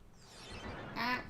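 Donald Duck's squawky, garbled quacking voice in the Kingdom Hearts video game, a short nasal burst that rises and ends in a louder, sharper quack.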